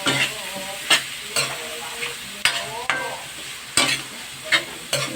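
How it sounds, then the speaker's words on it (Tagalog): Pork intestines for adobong isaw are stirred in a hot pan, steady sizzling and frying broken by repeated sharp scrapes and clatters of the utensil against the pan, close and loud, with no speech. "Ilalagay na po natin yung isaw. Haluin lang natin."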